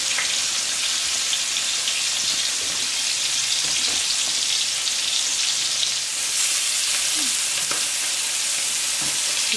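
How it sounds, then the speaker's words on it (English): Pork chop and chopped shallots fry in a pan for a bourbon-glazed pork chop, giving a steady, loud broadband sizzle that runs the whole time with a few faint pops and clinks, and no talking. "And I'm gonna add my shallots that I've chopped up."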